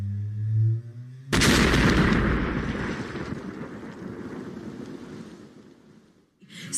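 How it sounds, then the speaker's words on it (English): A documentary sound effect for a neutron star merger: a sudden, huge booming explosion with a long rumbling roar that slowly fades over several seconds, preceded by a low musical tone. "smash into each other, causing one incredible explosion."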